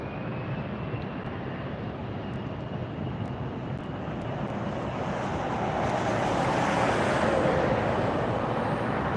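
A Delta Airlines Airbus A320-200 departing LAX for Dallas, a broad steady jet roar that builds gradually into a louder rushing swell toward the end.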